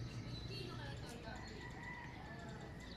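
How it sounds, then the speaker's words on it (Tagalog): Birds call in the early morning sunshine outdoors, with chirps and a fowl-like crowing over a constant low rumble of background noise; faint voices mix in. "May mga ibon na."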